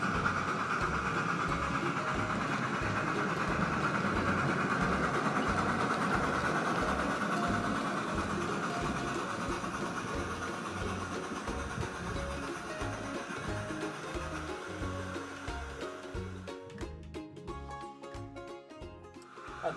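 A model train rolls forward along the track with a steady rhythmic clatter of wheels over rail joints, fairly close, gradually fading and ending in a few sharper clicks.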